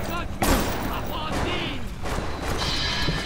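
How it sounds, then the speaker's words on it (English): Gunfire in the video game Bioshock, dense overlapping shots and crashing impacts filling the whole moment, loud and continuous. "What else is shooting me?"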